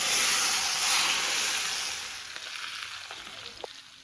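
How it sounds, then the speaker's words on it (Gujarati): Mustard seeds sizzling in hot oil for the tempering of plain khaman, a loud hissing fry at first that settles into softer crackling with a few pops toward the end. "બીજું વઘાર કરશું સાદા જ ખમણનો. એની અંદર રાઈ નાખશું"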